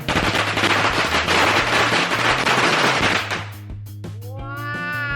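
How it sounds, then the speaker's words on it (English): A string of firecrackers bursts in a dense, loud crackling volley for about three seconds, then stops abruptly, leaving a few scattered pops and a faint voice in the quiet. "Next, we're gonna do firecrackers."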